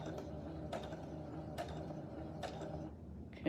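A sewing machine stitches a short run on a face mask and then back stitches. Its soft, steady mechanical whir and creak sits close, with faint periodic clicks marking the changes in direction.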